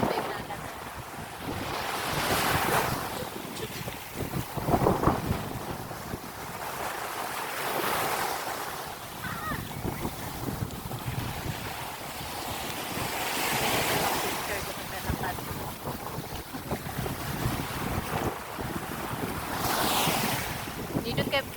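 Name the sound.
sea waves breaking on a sandy beach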